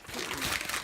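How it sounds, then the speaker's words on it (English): Plastic packaging from a shopping haul crinkles and rustles, close and soft, as a continuous crackly texture lasting under a second. "sorry for the crinkling"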